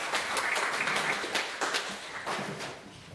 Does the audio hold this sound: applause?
yes